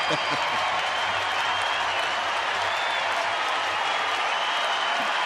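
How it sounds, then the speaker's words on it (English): A baseball stadium crowd at a Houston Astros at Texas Rangers game in September 2013 cheers and applauds in a sustained, loud roar, with a commentator talking over it. "Crowd again getting behind Nathan."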